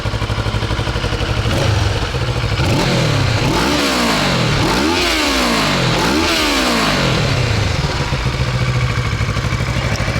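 Kawasaki Versys 650 fitted with a new Akrapovic exhaust, revved up close and loud from idle in three repeated rising and falling blips before settling back to a steady idle.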